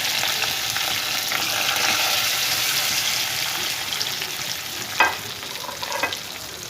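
Spices tempered in hot oil for a desi fish curry hiss and sizzle steadily in a pan, a loud dense crackle with a couple of brief stirring clinks near the end.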